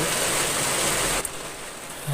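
Steady broadband rain hiss from a rainstorm in the block-building game Mini World, a continuous even wash of falling rain with no talking, briefly dipping and thinning slightly near the end.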